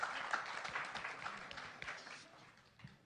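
Brief spontaneous clapping from an audience during a talk on the future of work, a scattered burst of claps that fades out over a few seconds, fairly distant.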